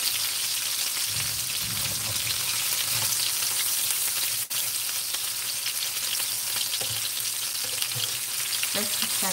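Fish frying in a pan, turning golden, gives a steady, close sizzle and crackle that runs throughout, with a single sharp click midway.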